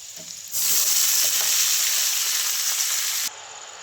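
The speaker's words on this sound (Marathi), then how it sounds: "लसूण आता टाकते मेथीची भाजी" Garlic and fenugreek greens land in a hot pan and burst into a loud, steady sizzle that holds for about three seconds, then cuts off abruptly, heard up close in a home kitchen with no one speaking.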